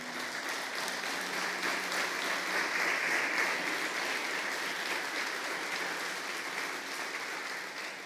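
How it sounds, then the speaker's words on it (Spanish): A church congregation applauds during a Christian sermon, sustained dense clapping from many hands in a reverberant hall, steady throughout with no voices over it. "Le damos un aplauso a Él."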